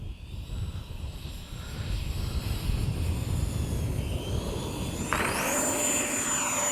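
A Freewing 64mm F-22 V2 RC jet, an electric ducted-fan model, does a touch and go, its steady whooshing whine rising in pitch as the throttle comes up, heard from a moderate distance with no talk.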